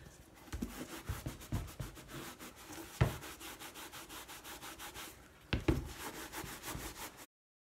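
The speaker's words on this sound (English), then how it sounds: "I'm going to rub off any excess ink with a dry cloth." Dry cloth rubbing excess ink off leather Blundstone boots after dyeing them from red to black, a steady scratchy rubbing with rhythmic strokes throughout, a couple of sharper scuffs, close and fairly quiet.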